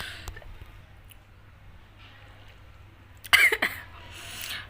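A short burst of coughing from a person indoors, two or three quick, close hacks in a row that cut through an otherwise quiet room.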